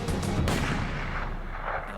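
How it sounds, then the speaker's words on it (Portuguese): A single loud gunshot fired in snowy mountain country near a stopped snowmobile, a sharp blast early on followed by a long rumbling echo and dense low noise. "E eu disparei um tiro atrás dele."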